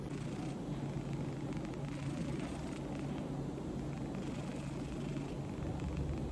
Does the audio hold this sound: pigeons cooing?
no